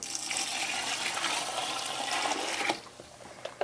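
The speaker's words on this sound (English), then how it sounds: "We're going to pour that in there." Liquid pours into a pot of vegetable beef soup in a steady splashing stream for a few seconds, then stops and leaves small clinks and drips.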